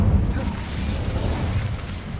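The Incendio fire spell is cast in Hogwarts Legacy, a short broad whooshing roar of flame that bursts on and fades over about two seconds.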